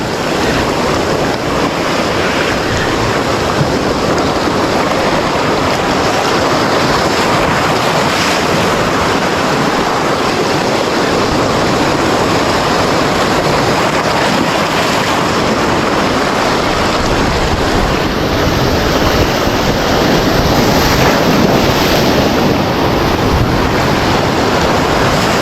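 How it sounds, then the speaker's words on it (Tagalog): Ocean waves and strong wind at sea during a fishing trip, a loud continuous roar of surf and wind buffeting the microphone that goes on steadily with no speech. "Alon lang yan guys."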